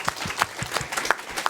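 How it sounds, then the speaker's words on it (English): Scattered applause from an audience at a family-weekend annual general meeting, a modest round of claps with uneven, fairly soft beats carrying steadily through the moment. "So if you could have a round of applause."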